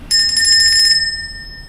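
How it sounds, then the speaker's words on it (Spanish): A metal bell hung on a door gives a single bright, close ring, and its clear tones decay over about a second with no other sound. "En esta puerta también otra campana."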